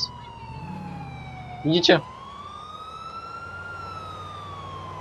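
An ambulance siren in GTA IV with the LCPDFR police mod, a wailing tone sliding slowly up and down across the whole stretch under steady game noise, with a short spoken word partway through.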